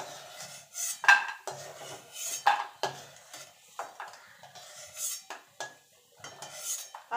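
Fried lentil dumplings are lifted out of a pan of oil, with quiet, irregular clinks and scrapes of a metal utensil against the pan, close by with no talking.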